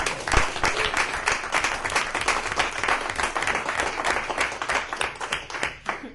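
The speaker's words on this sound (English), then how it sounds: "I'm glad you clapped" An audience claps at a county commissioners' meeting, with steady, dense applause sustained throughout at moderate loudness.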